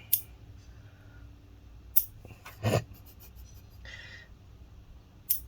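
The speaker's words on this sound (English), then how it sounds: "so this is how I cut it" Fingernails are clipped with sharp, isolated snips spaced a second or two apart, quiet and close, with faint rubbing and handling sounds between the cuts.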